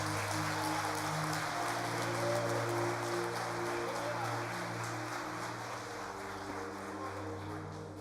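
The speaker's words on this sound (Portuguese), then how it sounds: "Aplauda o Senhor, queridos" Church congregation applauding during a sermon, a steady wash of clapping layered over a sustained low organ or keyboard drone, moderately loud and continuous throughout.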